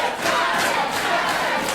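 A loud wrestling arena crowd cheers and roars continuously at an Ironfist Wrestling event, a dense wash of many voices.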